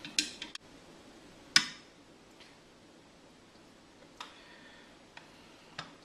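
A chopstick clinking against a container while stirring cabbage water, giving a few sharp isolated ticks and taps spaced irregularly, with one louder knock and near silence between them.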